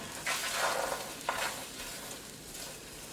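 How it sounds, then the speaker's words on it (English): Egg being scrambled in a hot pan pushed beside fried rice: soft stirring scrapes over a light, steady sizzle, close and fairly quiet, with no talking. "I'm going to add the egg here. And just kind of scramble it. Pan's hot."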